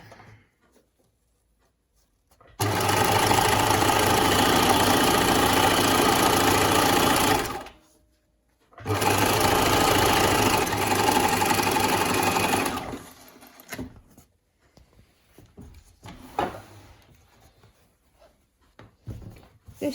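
Sewing machine stitching a V-neck bound edge on a garment, two loud sustained runs of rapid whirring, about five and four seconds long, separated by a brief pause, then scattered quiet handling clicks.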